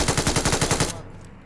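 Rapid automatic gunfire in the mobile battle royale game PUBG, about a dozen close, loud shots in a fast steady burst that stops abruptly partway through.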